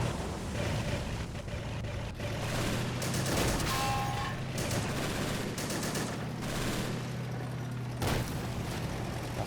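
A WWII North Africa battle in a video game, with a Pak 38 anti-tank gun firing at a Sherman tank: scattered booming shots and crackling gunfire over a constant low engine rumble, moderately distant.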